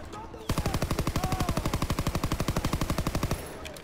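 Rapid automatic gunfire in the Call of Duty WW2 campaign, a steady loud burst of evenly spaced shots lasting about three seconds, with no talking.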